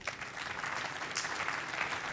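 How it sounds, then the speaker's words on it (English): Applause from a conference audience after a presentation on smart-city startups, a dense, continuous clapping from many people at a steady level throughout. "Big applause."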